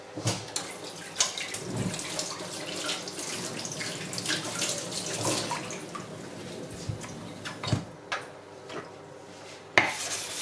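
Sharpening stone being washed under a running tap, with water streaming and splashing steadily throughout and a few sharp clinks and knocks against the sink.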